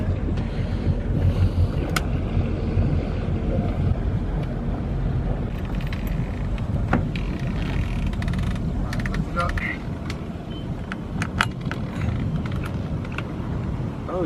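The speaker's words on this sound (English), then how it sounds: "Boat seems to be running okay" A steady low boat engine rumble runs throughout, mixed with wind buffeting the microphone and faint voices in the background.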